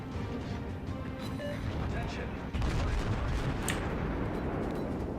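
Warship guns boom in World of Warships during a Königsberg cruiser battle, heavy rumbling blasts and crashes beneath a constant roar of game noise, with a voice talking over it.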